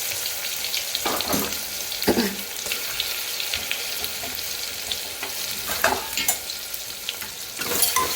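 Mixed vegetables with tomato, onion, garlic, green chilli, cauliflower, brinjal, peas, potato and fenugreek leaves sizzle steadily in oil while being stirred, with periodic scraping strokes of the spoon against the pan and no talking.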